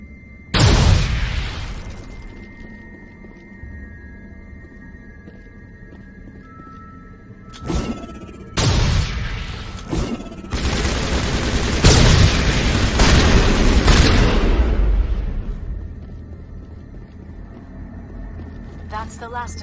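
Deep booming grenade blasts in the video game Mass Effect, one big explosion early followed by a rumbling cluster of detonations and crackling debris later, loud and close, with a voice heard between.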